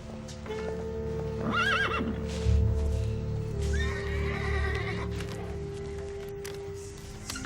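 A horse with colic whinnies loudly twice, high wavering calls over a steady low hum, with hooves shuffling and clopping nearby.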